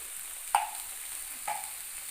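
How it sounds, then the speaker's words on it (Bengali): Ground spices for soybean dum aloo, including coriander powder, sugar and Kashmiri red chilli powder, are stir-fried in a pan over a medium gas flame: a soft, steady sizzle broken by two brief scrapes of the spatula. "সমস্ত কিছু মশলা দিয়ে দেওয়ার পরে এবার আবারও ভালো করে কষাতে হবে গ্যাসের ফ্লেমটাকে মিডিয়ামে রেখে"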